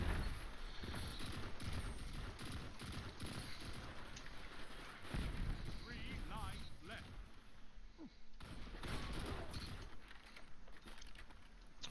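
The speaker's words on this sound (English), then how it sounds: "there's so much gunfire happening over here" Dense, rapid gunfire and clattering weapon impacts from a Destiny 2 match, a fairly quiet, continuous barrage with sharp bursts throughout, mixed under intermittent speech.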